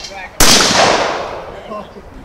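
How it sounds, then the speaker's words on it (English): A single sharp gunshot fired at steel targets on an outdoor shooting range rings out loud and close, its echo trailing away over about two seconds, with faint talk before it. "Shoot the steels until you hit them all."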